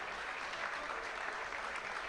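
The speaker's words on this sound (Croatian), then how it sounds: "Dajte im podršku, aplauz!" A crowd at the closing ceremony of the Croatian World Games applauds, with dense, steady clapping throughout that sounds broad and sustained, with no voices rising above it.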